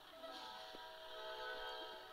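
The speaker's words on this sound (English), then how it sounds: "We got a train coming." A train rolls toward the player in the Roblox game Trains Vs Cars 2, its steady rumble and faint horn-like tones holding quietly at moderate distance throughout.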